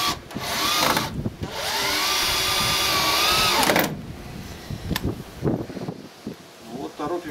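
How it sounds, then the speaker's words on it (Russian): A Makita 17-volt cordless screwdriver runs with a steady whirring motor for a few seconds, then stops, followed by a few short bursts, while people talk nearby. "У тебя шуруповерт хороший, Makita на 17 вольт."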